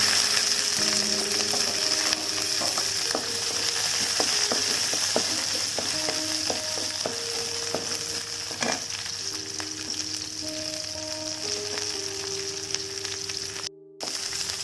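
Dried red chillies and onion sizzle loudly in plenty of hot oil in a pan, a steady crackling hiss with occasional stirring scrapes and faint clinks, and no talking.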